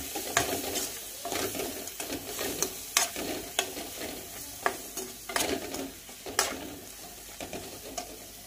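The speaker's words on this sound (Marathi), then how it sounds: "मसाले पण आता छानपैकी आपले असे भाजलेले आहे" Masala spices for paneer masala fry in a pan with a steady sizzle while a spoon scrapes and clacks against it in repeated stirring strokes, close and with no talk.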